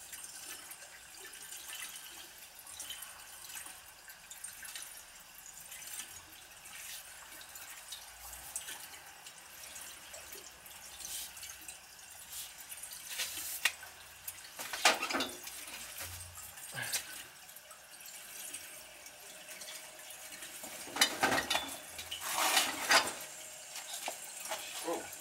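Water leaking from a gas boiler's pressure relief valve: a faint steady trickle and dripping throughout, with occasional louder splashes and spurts, heard alone in a quiet room.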